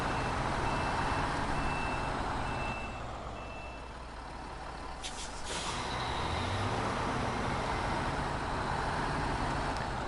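Repeated truck reversing beeps from a heavy off-road truck in the SnowRunner video game, steady evenly spaced tones over a constant loud engine drone, alone without talk.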